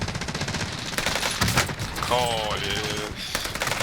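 Video game gunfire from an automatic weapon with heavy recoil, rapid bursts of close shots that fade and return, with a voice speaking briefly over the action.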